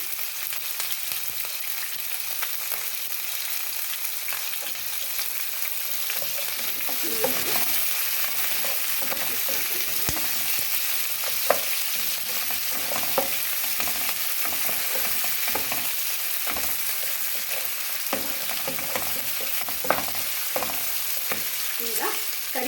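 Onion and green chillies sizzle loudly in hot oil in a pan for mango rice, with a continuous frying hiss broken by repeated scraping clicks of stirring and no talk.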